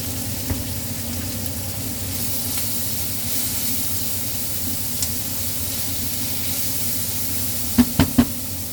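Gnocchi browning in a hot pan, giving a steady, even sizzle and hiss throughout, with a few sharp clicks or taps near the end.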